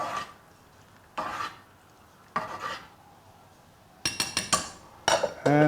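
A pot of borscht being stirred, with four separate bursts of scraping and clinking from a spoon against the pot, close and fairly loud, quiet gaps between them, and a final flurry of rapid metallic knocks.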